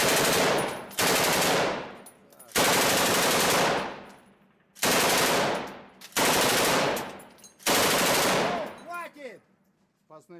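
Heavy gunfire during the battle for Donetsk airport in Ukraine comes as several long, loud machine-gun bursts separated by short pauses, with a faint voice and echoing tails near the end.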